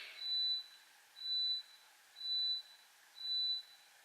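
A faint electronic beep repeats four times at an even pace, about one per second, alone in an otherwise quiet room.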